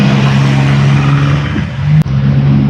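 Vehicles overtaking on an open road in Thailand, a loud close engine roar that rises and swells with a brief dropout near the end.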